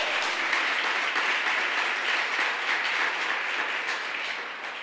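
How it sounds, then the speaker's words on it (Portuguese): A church congregation applauds during a sermon with dense, loud, continuous clapping that fills the hall and holds steady throughout. "Você pode aplaudir o nome do Senhor."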